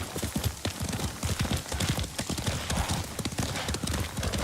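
Rhythmic clip-clop of a horse's hooves at a steady gait in the video game Ghost of Tsushima, close and prominent, with a brief whinny, and voices talking intermittently alongside.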